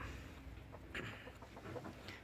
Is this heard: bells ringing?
no